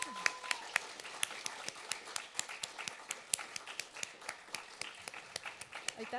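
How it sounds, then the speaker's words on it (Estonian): Graduation ceremony audience of IT and telecommunications students applauding, sharp individual claps standing out over a continuous patter of hands, fairly close and steady throughout. "Tehke endale üks suur aplaus."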